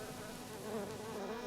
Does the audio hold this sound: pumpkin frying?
no